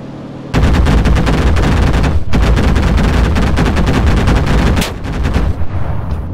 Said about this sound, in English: See if I can strafe him with the 37s.